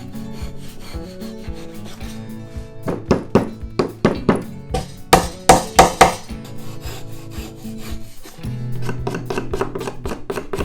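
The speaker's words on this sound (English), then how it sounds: "Sand the end of the tarusen neatly." The end of a wooden tarusen plug is sanded by hand, with rough rasping strokes and a run of sharp, rhythmic scrubbing rubs of wood, close and fairly loud.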